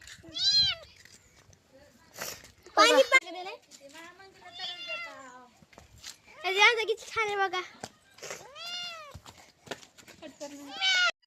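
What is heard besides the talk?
cat meowing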